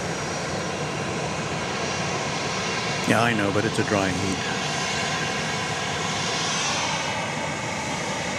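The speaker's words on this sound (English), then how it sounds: "We've got 2 planes on the march. You can hear them. They're getting ready to take off." Jet airplanes at Dallas Love Field rumble steadily on the ground while preparing for takeoff, a broad, constant engine roar heard from a distance. A person speaks briefly over the noise.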